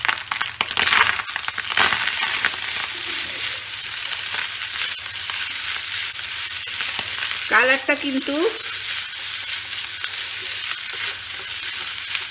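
Cooked rice, salted, fries in a pan for bhat bhaja, with a continuous close sizzle and scraping stirring strokes, loudest early on. Someone speaks briefly over the cooking.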